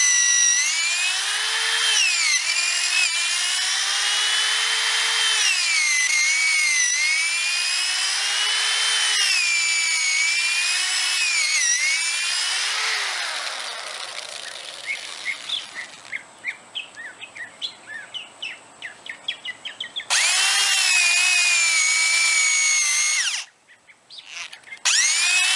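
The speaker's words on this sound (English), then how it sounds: "we're going to continue drilling holes in the stump." A power drill bores holes into a tree stump, whining in repeated rising and falling bursts, then pauses while birds chirp nearby before the drill starts again loudly near the end.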